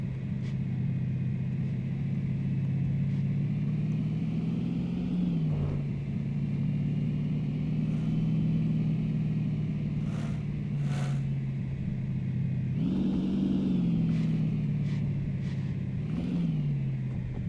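Steady engine drone of the Cortega car in a video game, holding a low tone with a few brief revs that rise and settle, loud and continuous throughout.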